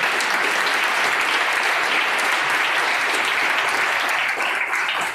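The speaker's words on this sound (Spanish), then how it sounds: "un fuerte y breve aplauso" Loud, dense applause from a large audience at a book publishing event in Seville, a continuous roar of many hands clapping at once, steady and full for several seconds before trailing off slightly at the end.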